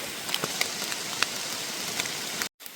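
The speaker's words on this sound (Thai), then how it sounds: "ฝนตกอีกแล้ว" Steady rain falls outdoors, a continuous hiss with scattered louder drops striking nearby surfaces, then cuts off abruptly near the end.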